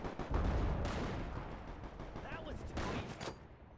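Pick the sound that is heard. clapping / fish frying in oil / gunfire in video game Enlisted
gunfire in video game Enlisted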